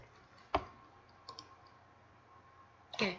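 A few isolated key clicks from single-finger typing on a computer keyboard, with one sharp tap early, a couple of faint ticks in the middle and a fuller click near the end, over quiet room tone.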